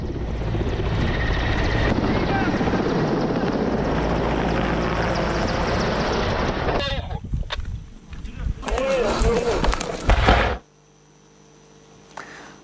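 A military helicopter's loud, steady rotor roar fills most of the clip, then breaks into choppier bursts and cuts off near the end.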